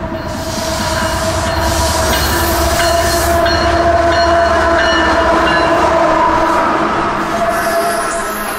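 Southbound local freight train rounding a curve into Ocala, a loud steady rumble of wagons rolling past with high wheel squeal ringing over it and light clickety-clack, continuous and close.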